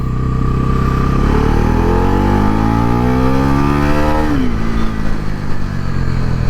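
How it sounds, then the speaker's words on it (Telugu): A Bajaj NS400 motorcycle pulls away hard after the clutch is let out, its engine note climbing loudly and steeply for several seconds before dropping sharply as it eases off. "క్లచ్ వదిలితే బండి ఉరుకుతుంది అసలు గట్టిగా"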